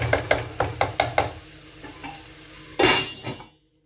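A spoon scrapes and clinks rhythmically against a pan of frying vegetables, about six quick strokes, followed by a louder scrape and a brief sizzle before the sound cuts off.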